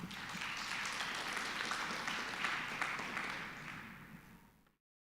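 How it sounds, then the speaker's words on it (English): Audience applause at a computer architecture conference session on machine learning accelerators, a dense, steady wash of clapping held for about four and a half seconds before fading out. "Let's give a round of applause to our presenter."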